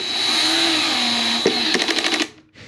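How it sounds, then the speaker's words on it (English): A cordless power drill fitted with a socket drives a 3/8 nut onto a Radio Flyer 4-in-1 Stroll 'N Trike, whirring steadily up close, then giving a series of short ratcheting bursts before stopping. "I do have a socket along with our drill here"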